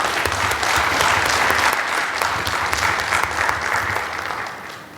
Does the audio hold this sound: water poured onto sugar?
no